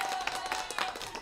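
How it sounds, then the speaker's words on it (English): Audience claps and cheers to welcome a dancer onto a talk show, with dense, fairly loud clapping and a few brighter whoops standing out over the steady patter. "Bring a big round of applause."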